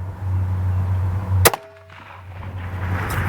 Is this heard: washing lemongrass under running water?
no